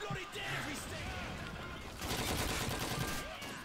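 Gunfire in the game Call of Duty 2, dense bursts of automatic weapon shots rattling continuously over a busy battlefield mix, moderately loud, with a voice talking faintly in places.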